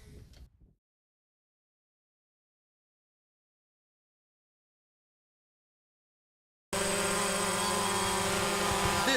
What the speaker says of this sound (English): This is an unmanned aerial vehicle, commonly known as a drone.